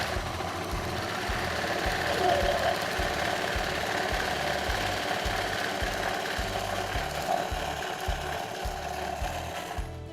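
A sewing machine stitches a zippered fabric pouch, a fast rhythmic mechanical chatter in runs with short pauses, close and steady.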